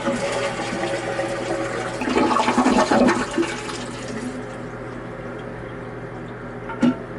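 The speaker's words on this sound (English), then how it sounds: "So what I always do when I'm taking a toilet off to empty out every bit of water that I can. First, flush it, of course." A household toilet is flushed before removal, starting with a gushing rush of water that swells and churns, then settles into a quieter refilling hiss with a brief clunk near the end.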